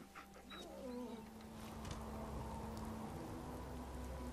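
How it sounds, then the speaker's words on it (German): A wet dog in Fallout 4 whimpers with short high yips near the start, faint and quiet over a steady low game ambience hum. "Der Hund hat sogar wirklich ein nasses Fell."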